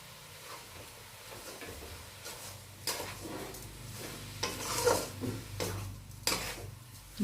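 A sugar mixture is stirred in a pan, with close scraping strokes and a faint sizzle that grow louder and busier toward the end.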